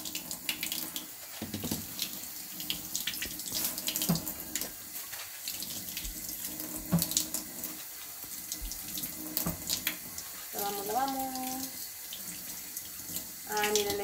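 Running tap water pours steadily into a kitchen sink while things are washed during taco de trompo preparation, a continuous close splashing hiss with brief voices near the end.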